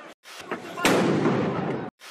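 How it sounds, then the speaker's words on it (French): A grenade explodes during a yellow vests protest in France, a sharp loud blast followed by a long roaring, crackling decay, with shorter bursts and shouting voices around it. "hop, grenade dans la gueule. Attention, grenade."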